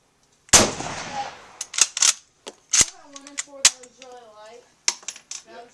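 Mosin Nagant rifle fired at an outdoor range: a sharp, loud shot with a broadband burst and short tail, followed by a few sharper cracks or clanks and a voice talking between them.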